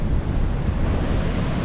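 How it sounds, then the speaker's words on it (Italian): Strong wind buffets the microphone over breaking waves at the shore of an island in northeastern Australia, a loud, rough, continuous roar. "C'è un vento parecchio forte. Mamma mia, l'acqua arriva quasi fino"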